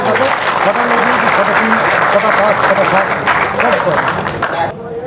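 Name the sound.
audience applause at prize distribution ceremony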